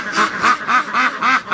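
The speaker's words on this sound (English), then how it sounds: "so it's nice to get away from the ducks here. It's pretty loud." Muscovy ducks quack loudly and close in a rapid rhythmic series of about six nasal calls in under two seconds, with no talk.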